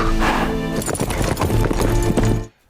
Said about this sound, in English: rides off on a goddamn horse